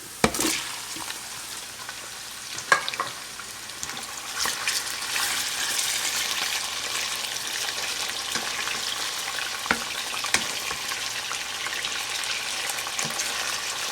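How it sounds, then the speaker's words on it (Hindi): Steady sizzling and crackling of meat stir-frying with browned onions in a hot pan, with occasional clinks and stirring scrapes, moderately quiet and continuous. "गोश्त और अदरक लहसुन का पेस्ट डाल के हम इसको स्टर फ्राई करेंगे"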